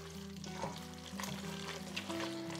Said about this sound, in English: Pasta done like this has got its own noise.